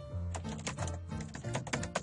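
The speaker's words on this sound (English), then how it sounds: "I should use my other keyboard to type because it's farther from the mic." Rapid clicky keystrokes on a computer keyboard, a dense run of close, quiet taps with no talking.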